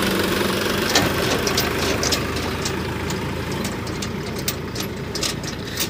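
A Sonalika 60 RX tractor's diesel engine runs steadily throughout, a loud, continuous low chugging idle with a faint knocking texture and no talk over it.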